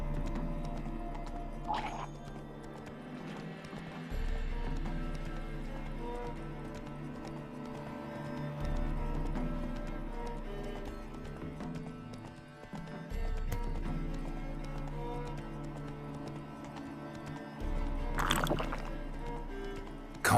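Horse hooves clip-clop steadily in The Witcher 3, a regular close plodding rhythm over low ambient game music, with a brief whinny-like sound early and late.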